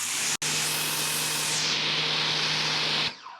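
A loud, steady hiss of an Adam's 3.0 pressure washer spraying water through a 40-degree nozzle runs almost unbroken, with one brief cut near the start, then stops abruptly at the end.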